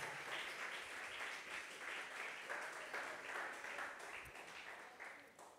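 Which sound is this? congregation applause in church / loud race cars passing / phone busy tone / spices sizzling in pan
congregation applause in church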